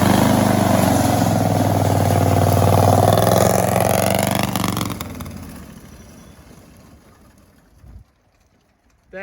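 A Bandolero race car engine with a freshly cleaned carburetor runs loud and close, revving hard for several seconds before dying away to near silence, followed by a short knock and a final burst.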